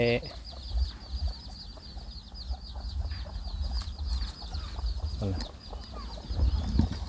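Chickens, a hen with grown chicks, cluck and chatter nearby in a backyard garden amid outdoor ambience, with soft rustling and occasional louder calls from the flock.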